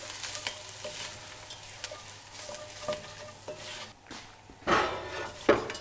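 Spices and curry paste sizzle in a pan as a spoon stirs and scrapes against the metal, with soft frying crackle under repeated clinks and a few sharper knocks near the end.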